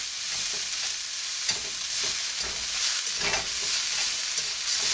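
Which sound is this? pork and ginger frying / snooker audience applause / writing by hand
pork and ginger frying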